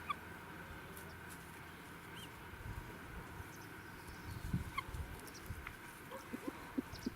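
Chickens pecking around quietly, soft scattered clucks and small scratching sounds at low level, fairly near, with no talking.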